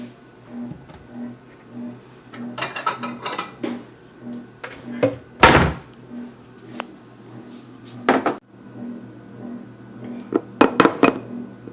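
A bowl is taken out from among other dishes, with scattered clinks, clatters and one loud ceramic knock over a faint steady hum, close and without speech.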